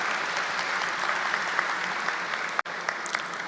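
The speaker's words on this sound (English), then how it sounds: "Please, a round of applause for them" Steady, dense applause fills a convocation hall as an audience claps for standing new students, continuous and fairly even, with a brief break near the end.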